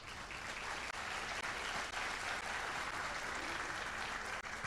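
An audience at an interfaith gathering applauds steadily for several seconds, a dense, even wash of clapping that stays at a constant level throughout.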